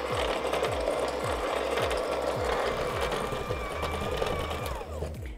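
An electric mixer creams butter with brown and caster sugar for triple chocolate chip cookies, giving a steady close motor whir with a fast repeating mechanical knock throughout.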